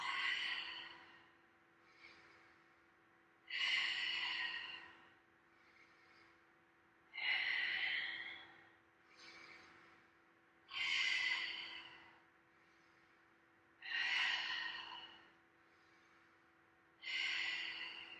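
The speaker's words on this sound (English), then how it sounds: "Inhale, puffing out the sacral, and exhale, releasing out the mouth" Deep breathing exercise focused on the sacral chakra: slow, close inhales followed by long breathy exhales released through the mouth, repeating in a steady rhythm of about five cycles, loud and airy against quiet, with no talking.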